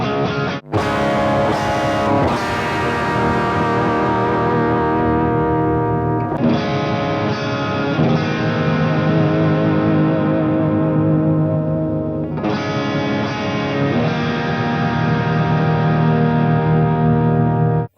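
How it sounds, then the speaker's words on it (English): Electric guitar played through Marshall amp distortion with a Marshall cabinet impulse response: three heavily distorted chords, each struck hard and left to ring out loud and sustained, with no talking. "since we are using amp distortion from Marshall, then we'll also use a Marshall IR to make it as original as possible"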